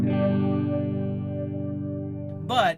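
A sustained electric guitar chord played through a FAC Phaser pedal, with a sweeping, swirling phase effect, followed by a brief bright strum at the end.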